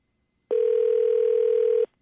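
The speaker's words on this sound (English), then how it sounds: "Okay, phone's ringing." A single steady electronic telephone ring tone, loud and clear, holding for just over a second before cutting off into silence.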